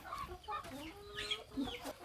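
Farm chickens clucking close by, a few short overlapping clucks and squawks in quick succession.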